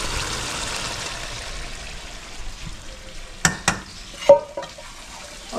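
Mashed eggplant bharta with salt is stirred and mixed in a pan, a soft continuous sizzling scrape, then a few sharp clinks of a spoon against metal near the end.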